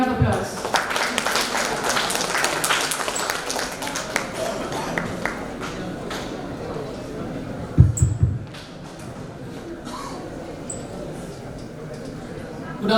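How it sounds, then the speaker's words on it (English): An audience at a conference event claps to welcome a speaker to the stage, brisk scattered applause under a murmur of voices that thins out midway, with a few loud knocks near the stage before the room settles. "may I please welcome Montu Makadia with a round of applause"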